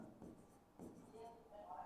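Chalk or marker writing on a board during a physics lesson, with scratchy strokes in short bursts under a teacher's speaking voice.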